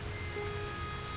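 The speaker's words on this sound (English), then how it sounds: "because it's raining" Toxic rain falls on a planet in No Man's Sky, a soft, even hiss that holds steady and faint throughout with no voices.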